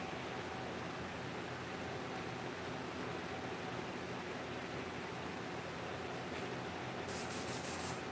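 Dark ink wash being rubbed out with steady, continuous abrasive scrubbing that holds even throughout, with a brief brighter hiss near the end; no voices.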